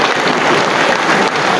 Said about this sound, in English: give him a resounding round of applause